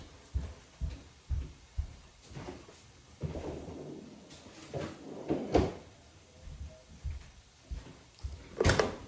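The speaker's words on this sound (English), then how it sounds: "I'm gonna get my cheese out of the fridge." A refrigerator door is opened and closed in a home kitchen during meal prep, giving several soft thuds and a sharper rattling clack near the end, with light handling knocks in between.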